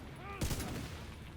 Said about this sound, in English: I got one shooting me in the back